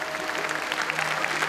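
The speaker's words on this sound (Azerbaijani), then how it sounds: "Alqışlayaq bir ürəkdən" A crowd breaks into brisk, dense applause, an even wash of many hands clapping at close range for the whole moment.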